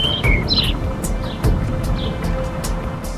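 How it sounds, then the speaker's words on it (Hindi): Birds chirping and tweeting beside the Gomti river near falling waterfalls, with quick high calls scattered over a steady bed of rushing water, outdoors and moderately loud, no voices. "आपको सिवाय चिड़ियों की चहचहाट के कोई और आवाज़ सुनाई नहीं देगी।"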